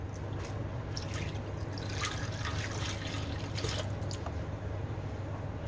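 Milk pours into the bowl of a Compact Cook Platinum food processor in a steady, soft trickling stream with faint splashes, quiet and continuous with a low hum beneath.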